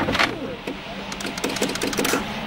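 A faulty window is being raised, making a rattly mechanical whir broken by rapid rhythmic clicks and knocks in short bursts, fairly close and loud.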